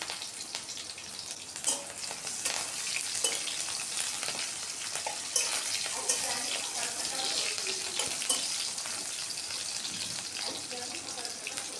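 Green chillies, garlic and onion fry in oil in a pan for chicken noodles, giving a continuous bright hissing sizzle with occasional stirring knocks, close and fairly loud throughout.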